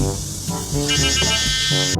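A continuous, buzzy horn-like tone shifts in pitch over a noisy background, sounding like a sound effect rather than a real vehicle horn.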